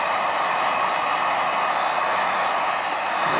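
A heat gun set on low blows steadily on wrinkled iron-on covering of an ARF RC plane, giving a loud, even hiss of rushing air that runs unbroken throughout.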